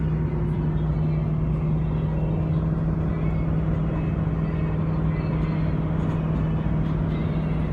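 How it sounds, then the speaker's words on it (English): A truck rumbles past on a road with a steady, loud, low engine drone and a constant hum. The sound stays even for several seconds with no clear approach or fade. "the truck passes me just in that time frame"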